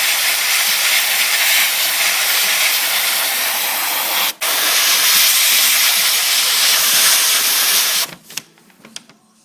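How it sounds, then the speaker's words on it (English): Steady, close hiss of an airbrush blowing plain air to dry freshly sprayed custom flame paint on a Dodge Magnum, running evenly for about eight seconds with one brief break before cutting off into faint workshop clatter. "Now I'm just blowing air. Let it dry a little bit faster."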